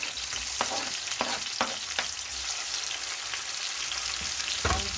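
An egg sizzling and frying in a hot pan for a tomato and egg scramble, a steady loud crackle with a few sharper pops and spatters throughout.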